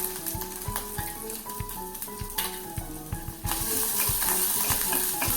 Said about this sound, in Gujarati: લસણ અને આદુને બાળવાનું નથી,